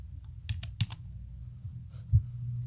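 A computer keyboard gives a short, close burst of a few soft clicking keystrokes in an otherwise quiet room.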